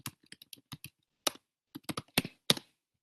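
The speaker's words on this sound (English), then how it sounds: "then I am going to type in" Typing on a computer keyboard while entering a legal search: irregular bursts of close, crisp key clicks with brief pauses, no talk.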